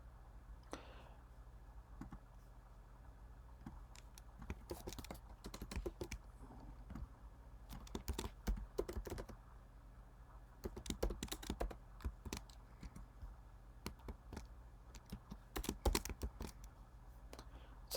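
Code being typed on a computer keyboard during a Python lesson on sets, heard as irregular bursts of close, crisp key clicks with short pauses, no talking.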